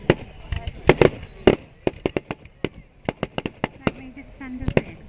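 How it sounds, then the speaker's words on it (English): Fireworks on Bonfire Night burst in a rapid series of sharp, loud cracks and bangs, some close together and others spaced out, with people talking and exclaiming between the blasts. "I got my camera out just in time as the fireworks started setting off."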